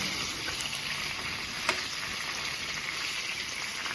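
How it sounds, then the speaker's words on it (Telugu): Eggplant curry fries in a pan with a steady, even sizzle and a single brief clink partway through, moderately loud and close, no voices. "మంచిగా ఫ్రై అయిపోయింది"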